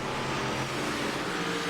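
Big-block modified race cars in a sim racing game roar with sustained, dense engine noise at high revs, a continuous loud drone with no pauses.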